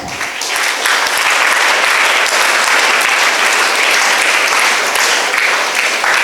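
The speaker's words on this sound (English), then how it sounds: "Just give big round of applause to her." A big round of applause from a school audience, loud and close, with many hands clapping in a dense, continuous roar that stays level for the whole stretch.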